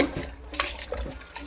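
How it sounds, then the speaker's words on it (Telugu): Water splashes and runs in a sink as leafy greens are rinsed by hand, with uneven sloshing bursts and small splashes close by, fairly quiet and without talk. "మనం ఒకసారి కాకుంటే ఒక 2 సార్లు 3 సార్లు అయినా కడుక్కోవాలి"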